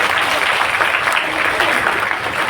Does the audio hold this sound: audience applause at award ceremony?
yes